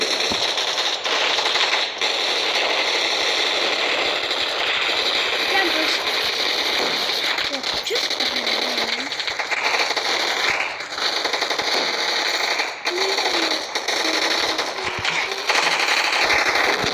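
Rapid automatic gunfire from the mobile shooter game Gunfight Arena rattles loud and steady throughout, dense bursts with game effects layered in and a voice talking over it.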